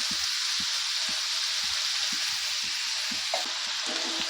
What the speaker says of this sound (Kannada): ಈ ಕಡೆ ಎಣ್ಣೆ ಕಾದಿದೆ. ಅದು ನೋಡಿ, ರವೆ ಹಾಕ್ತಾಯಿದ್ದೀನಿ.